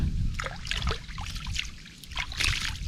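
Water trickles and splashes into a fish trap set in a shallow stream, an uneven run of close gurgles and small spills without talk.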